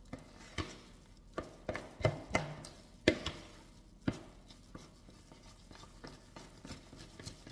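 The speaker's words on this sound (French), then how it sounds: "Vous mélangez bien le tout." Spoon beating yogurt cake batter in a bowl, made with yogurt or fromage blanc, with no fat or sugar: irregular close knocks and scrapes, sharper clacks around the middle, then softer stirring.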